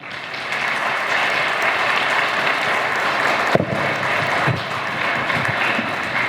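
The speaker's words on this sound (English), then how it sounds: "Let's give her another round of applause" Applause from the audience at a girls' school commencement and moving-up ceremony, a steady wash of many hands clapping that holds for several seconds with a brief dip and swell midway.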